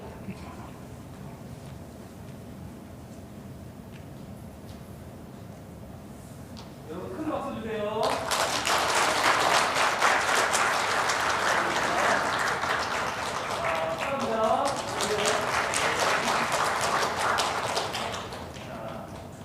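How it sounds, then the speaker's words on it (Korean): Sunday-service church congregation breaks into loud, sustained clapping about halfway through, following a quieter stretch with a voice at the start, the applause continuing strongly to the end. "큰 박수 주세요."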